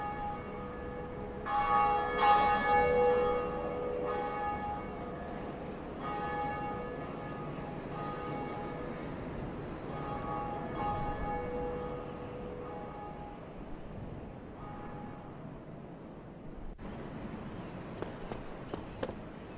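Church bell tolling in the Dark Souls video game, a few resonant ringing strikes early with lingering hum, fading to quieter game ambience and light sharp clicks near the end.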